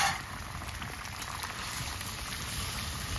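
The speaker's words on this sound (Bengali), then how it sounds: "আমি মাছগুলো ঝোলের মধ্যে দিয়ে দিচ্ছি।" Rohu fish curry with potatoes simmering in a pot, a steady dense bubbling hiss that stays constant and fairly loud throughout, with no voices.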